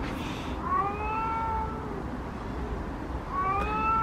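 A domestic cat meows twice, a drawn-out wavering cry followed a couple of seconds later by a shorter one, fairly close over a quiet hiss of room background.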